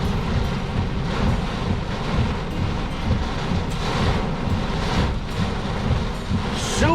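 Heavy rain pounding during a tornado-warned storm in northwest Indiana, a loud continuous downpour mixed with gusty wind buffeting the microphone; no clear thunder stands out and no one speaks.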